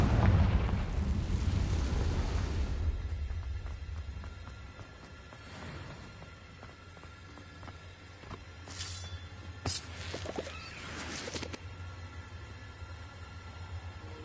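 A Confringo spell in Hogwarts Legacy sets off a deep, rumbling explosion that booms loudly and decays over a few seconds, followed by lighter game pops and crackles over a low sustained background rumble.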